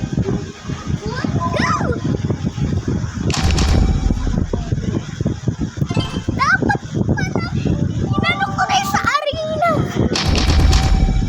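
Gunfire from an AM gun rings out in a shooting video game, with sharp bursts of shots over a busy, constant game soundscape while people chatter throughout.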